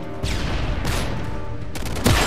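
Rapid bursts of gunfire ring out during a Search and Destroy round in a shooter video game, loud and continuous for about two seconds, with a sharper burst near the end and no talking.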